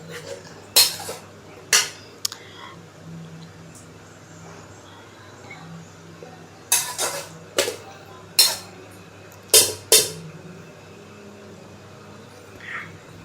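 A covered handi of chicken biryani being shaken, giving a handful of sharp metallic clanks and lid rattles in bursts, close and fairly loud over a quiet kitchen hum, with no talking.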